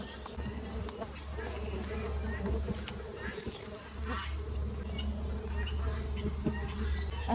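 Dense, steady buzzing of many honeybees at close range while a box hive colony is opened for harvest and splitting, with a low hum running throughout and scattered louder passes of individual bees.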